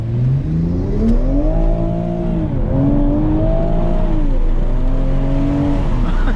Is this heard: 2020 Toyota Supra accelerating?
yes